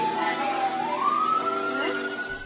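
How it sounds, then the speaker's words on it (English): Police siren wailing in Skid Row, downtown Los Angeles, a rising electronic tone that sweeps upward and holds steady, fairly loud and continuous for a couple of seconds with no one talking. "The police sirens are a constant reminder of the adversity many of the students face outside of the classroom"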